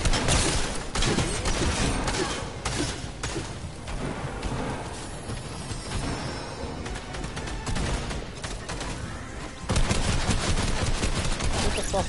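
Chaotic gunfire from a PS4 shooter game, with bursts of shots and sharp cracks that come and go amid dense battle noise for about twelve seconds, growing louder near the end.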